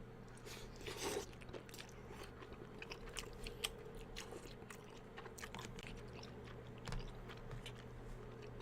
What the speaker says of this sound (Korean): 요거는 치즈 핫도그 맛있게 먹어볼게요